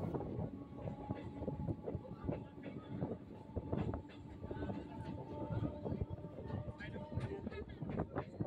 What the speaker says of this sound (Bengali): ট্রেন এখন মগরাহাট স্টেশন ছেড়ে বেরিয়ে যাচ্ছে